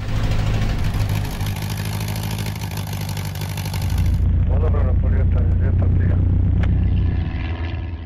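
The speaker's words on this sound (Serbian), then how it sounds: "provjeri avion i da se vine u nebo iznad Nikšića" A small airplane at the Kapino Polje airfield near Nikšić, its engine droning and rumbling loudly throughout, with a high whine that cuts off partway and a deeper, stronger roar after that.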